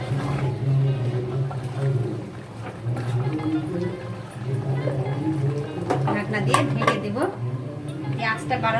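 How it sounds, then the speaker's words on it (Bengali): A spoon clatters and scrapes against a pan while handi chicken is stirred with salt, making repeated metallic knocks under a person's ongoing talk nearby. "দিলাম স্বাদ মতো লবণ দিয়ে এটাকে ভালো মতো করে নাড়াচাড়া করে"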